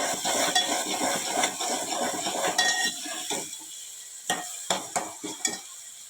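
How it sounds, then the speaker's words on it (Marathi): Onion frying in hot oil with curry leaves, cumin and mustard seeds for Konkan-style misal, a bright continuous sizzle with spatula stirring, then sharp metallic clinks of the spoon against the pan near the end, close up and without speech. "कांदा सुद्धा छान आपण लाल परतून घेऊयात कांदा सुद्धा आपला छान परतून झालेला आहे"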